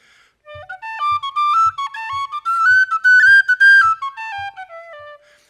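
A short Irish tune phrase on tin whistle rises and falls, notes crisply separated and some held, with faint regular taps underneath; played close and alone.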